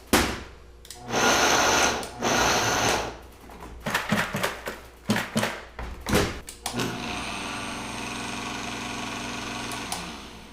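A Vitamix blender pulsing blackberries with a little water for a blackberry porter: loud bursts of grinding whir in short pulses, then a steadier mechanical rattle and hum.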